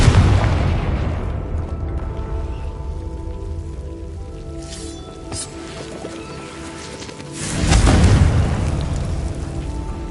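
A Confringo fire spell bursts in Hogwarts Legacy, a loud booming blast rising around the eight-second mark over dense rumbling game ambience and clutter, with no talking.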